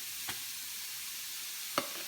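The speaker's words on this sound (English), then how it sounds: "what I like to do when I'm cooking mushrooms is add a little bit more olive oil" Mushrooms fry in olive oil with a steady, soft sizzling hiss, broken by two brief clicks of stirring in the pan. No one speaks.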